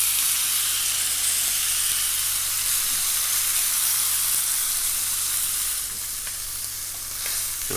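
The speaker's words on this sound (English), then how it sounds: "Another little sear on its skin. On its fatty edge." A steak's fatty edge and skin sear in a hot pan, making a continuous dense hiss and sizzle close by, fading slightly near the end, with occasional faint stirring ticks and no talking.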